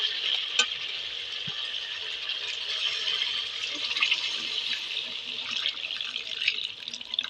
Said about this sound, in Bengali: মাংসটা কষানো হয়ে গেছে, এবারে জল দিয়ে দেবো পরিমাণ মতো।